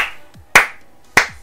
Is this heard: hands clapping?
yes